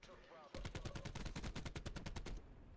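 Submachine gun fire in the Black Ops 4 video game, a rapid burst of about fifteen evenly spaced shots over two seconds, loud and close, after faint voices.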